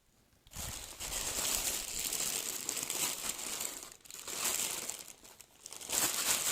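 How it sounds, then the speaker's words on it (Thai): Dry eggshells crushed and crumpled by hand for garden fertilizer, a steady close crackling crunch that runs continuously with brief pauses, no voices. "เราเตรียม เปลือกไข่เรียบร้อย แห้งสนิท เราก็บี้ขยำทุบให้ละเอียดนะครับ"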